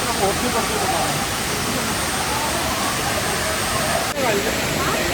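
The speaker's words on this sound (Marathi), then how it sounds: "पाणी खूप फोर्सने वरतून पडतो धबधब्याचा" A waterfall at the Kondhana caves pours down forcefully, a loud, continuous broadband roar close by that fills the whole scene without letup.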